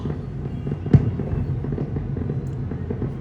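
Fireworks at an outdoor display pop and rumble continuously at a distance, with one sharper crack standing out among the steady booming.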